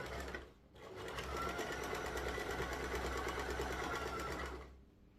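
A sewing machine stitches a fabric scrunchie in one continuous close run of a few seconds, whirring evenly before stopping, with no talk.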